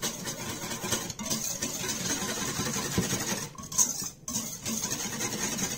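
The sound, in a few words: whisking cornmeal mixture until smooth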